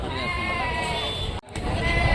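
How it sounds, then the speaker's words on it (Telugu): A billy goat bleats in a long, wavering cry at the Rajarampalli livestock market, with a brief break before the call resumes over steady market background noise. "మేకపోతు"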